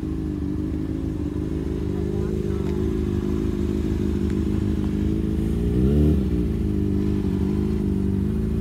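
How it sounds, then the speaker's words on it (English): Motorcycle engine idling and lightly revving while a beginner learns to ride and work the clutch, a continuous loud mid-pitched drone with a brief swell, voices talking over it. "Don't give it gas. Let go of the clutch slowly."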